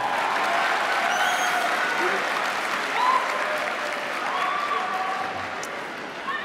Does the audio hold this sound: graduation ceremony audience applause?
yes